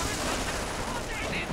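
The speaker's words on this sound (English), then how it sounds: "I'm firing AT gun." Anti-tank gun fire in the Company of Heroes video game, a dense continuous barrage of loud gunfire and explosions with voices under it.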